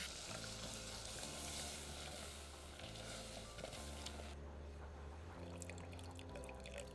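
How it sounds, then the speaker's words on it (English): Milk being whisked into a flour roux in a pan gives a soft, continuous bubbling sizzle with faint liquid drips and rhythmic stirring, no voices. "It's a good idea to stir with the whisk as that helps prevent any lumps forming in the sauce."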